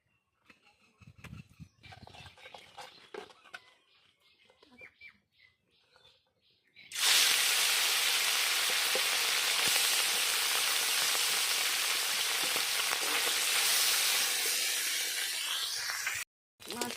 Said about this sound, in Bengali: প্রথমে আমি ল্যাটা মাছ কটা ভেজে নিচ্ছি